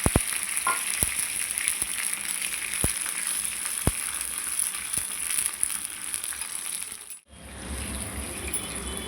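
A little water goes into a hot tempering pan of mustard seeds, curry leaves and chillies for dhokla, giving a steady close sizzle with sharp scattered pops, then a brief drop and a softer hiss.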